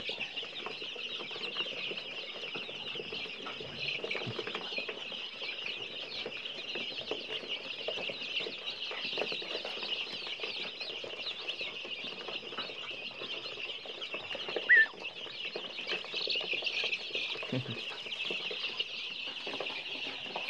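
Free-range chicks of a striped-head mixed fighting breed cluck softly and steadily in a farmyard, over a constant high buzzing ambience, with one brief louder sound midway.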